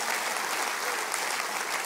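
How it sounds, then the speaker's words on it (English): A church congregation claps hands together, a brief burst of dense, even applause heard alone at close range. "Come on, clap your hands real big."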